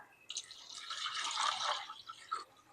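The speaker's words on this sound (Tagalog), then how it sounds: "Dagdag na rin ako ng tubig" Water poured into a pot of sinigang soup with mackerel and its sauce, a steady close splashing pour of about two seconds, fairly faint, with no voices.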